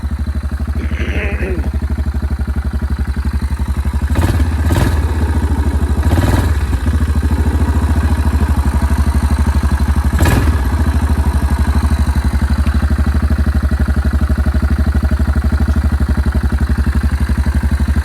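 A 2004 Yamaha Kodiak 400 ATV with an aftermarket TANG carburetor idles loud and close in a steady throbbing putter, with a few sharp clattering bursts near the middle.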